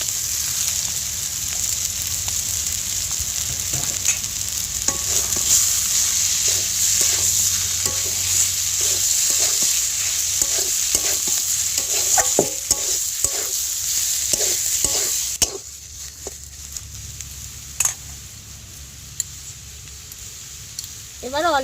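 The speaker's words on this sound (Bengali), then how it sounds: "এবার গ্রেটার করা আলু সিদ্ধটা দিয়ে দেব।" Grated boiled potato frying in a pan with oil while being stirred: steady sizzle with repeated scraping stir strokes, close and fairly loud, easing off near the end.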